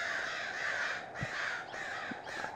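Crows cawing loudly in the video game White Mirror, repeated harsh calls over a steady outdoor ambience, with short caws spaced roughly every second across the clip.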